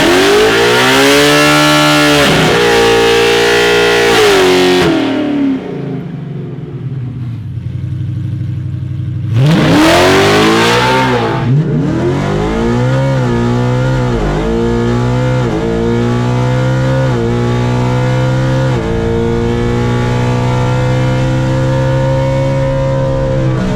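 Naturally aspirated Ford Mustang S650 on pump gas making a drag strip pass: loud close engine revving and climbing through gears, a brief lift, then a hard full-throttle launch and sustained high-rev pull.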